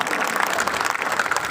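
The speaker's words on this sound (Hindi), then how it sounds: "मुझे एक बार पीछे तक ताली बजा करके हुक्म दें कि मैं ये" An audience at a mushaira poetry gathering in Mumbra, Mumbai, claps in a dense, steady burst of applause that fills the room, loud and continuous throughout.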